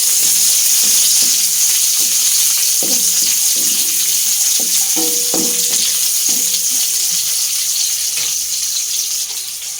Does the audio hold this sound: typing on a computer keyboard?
no